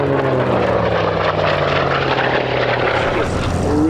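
An Orca Fury aircraft makes a very high-speed arrival at the Sywell Airshow 2024: a loud, sustained engine roar close by, its pitch sliding as it sweeps past.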